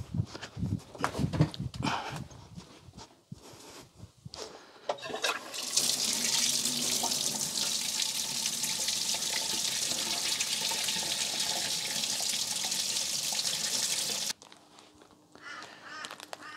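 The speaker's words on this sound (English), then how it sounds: "Guys, get some water on this." A household tap runs into a sink, a steady bright gush lasting about nine seconds before it shuts off, preceded by clattering handling noises and followed by faint room sounds.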